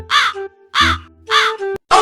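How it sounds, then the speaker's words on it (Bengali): A crow caws outdoors three times, loud and close, with even gaps between calls and a brief sharp click near the end. "আরে দাঁড়া দাঁড়া, দেখ পাখি ডাকছে"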